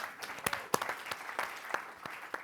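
A small audience at a Stanford residence hall history talk gives a brief round of light clapping, with sparse, uneven individual claps that sound fairly faint and spaced out.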